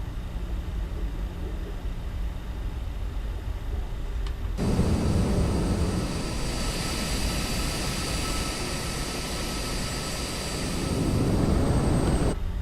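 An Avro RJ85 jet in Northwest livery cruises in Microsoft Flight Simulator 2020, a steady broad engine roar and whine that swells noticeably louder partway through and stays loud to the end.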